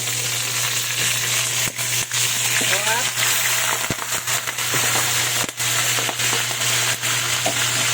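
Tilapia fries in oil, sizzling and crackling steadily, with sharp popping bursts breaking through the frying, and a short spoken word near the start.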